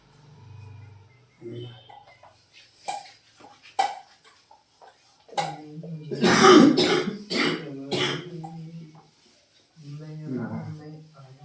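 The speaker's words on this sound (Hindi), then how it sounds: "खांसी हो रहा है खाना खाने से।" A person coughs and clears their throat after eating, with a few rough isolated bursts followed by a cluster of harsh coughs, close to the microphone, with speech before and after.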